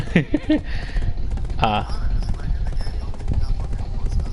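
Horse hooves clip-clop in a video game, a steady run of soft hoof beats sitting under near, continuous talk.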